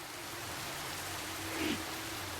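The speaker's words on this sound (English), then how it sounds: "I know it's loud. It is rain." Steady rain from the video game Inferno Climber, a loud, even wash of falling water that fills the whole moment without pause.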